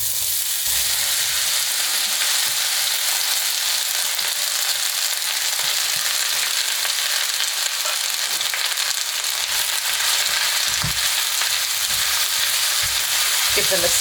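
Onions frying in melted fat in a pan, a steady loud sizzle with occasional scraping stirs near the end.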